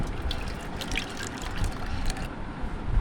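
Egg and milk custard mixture for caramel pudding pours steadily into a pan, a continuous close liquid trickle and splash with faint dripping throughout.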